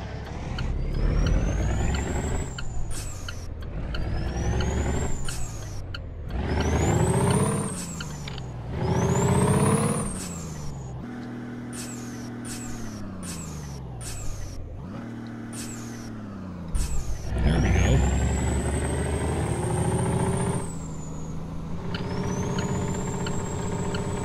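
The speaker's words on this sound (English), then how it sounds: "Kind of mess around with the Jake brake a little bit" In American Truck Simulator, a big rig's Jake brake fires in repeated bursts of loud, rattling engine roar, its pitch climbing and falling as revs change, with quieter idling stretches between them and no talking.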